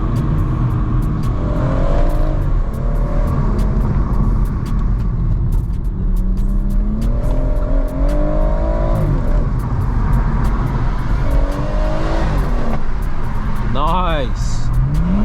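A BMW M140i accelerates hard from a standstill, its engine note sweeping up and down in repeated surges while the tyres struggle for grip, heard loud and close from inside the car with a steady road-and-cabin rumble underneath.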